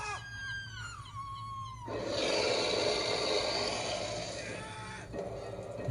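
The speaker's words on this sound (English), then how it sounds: "So we have a dragon fire." A dragon fire effect from a Syrinscape red dragon city raid soundscape: a sustained roaring whoosh of flame swells in and holds for several seconds, then a screeching creature call cuts through before and after the blast.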